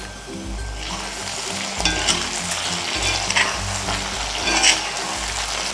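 Brinjal cooking down in a pan for a spicy chutney, frying with a steady close sizzle, broken by a few scraping stirs of the spoon, with no talking.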